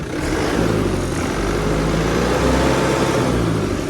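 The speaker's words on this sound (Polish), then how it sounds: "dodam gazu trochę" Warm New Holland TN95NA orchard tractor, freshly serviced, with its engine throttled up to a steady, loud diesel drone that rises slightly midway and holds, close by with no talk.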